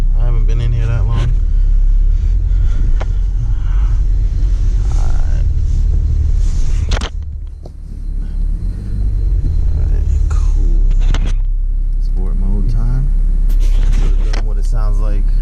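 A BMW 340i with a BMS intake, not in sport mode, gives a low steady rumble from close by under frequent talking, easing briefly midway before building again.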